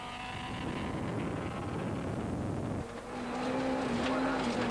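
Four-wheel-drive rally cars on a 1993 mountain trail stage run hard over a plateau, with a continuous revving engine note that drops briefly and then climbs again as one car accelerates. A faint voice talks beneath the engine.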